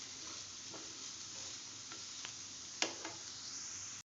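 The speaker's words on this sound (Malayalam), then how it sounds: "ഇത് രണ്ടും ഇട്ട് വീണ്ടും നന്നായിട്ട് ഇളക്കി യോജിപ്പിക്കുക." Onions fry in a pan with curry leaves and coriander, giving a quiet steady sizzle, while a spoon stirs them with a few soft scrapes and one sharper clink near the end.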